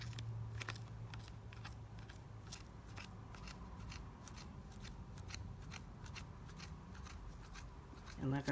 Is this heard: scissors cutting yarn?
yes